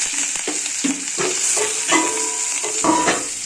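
Chopped onion drops into hot oil already tempered with nigella seeds and a dried chilli, giving a steady close sizzle with brief bursts of frying crackle throughout.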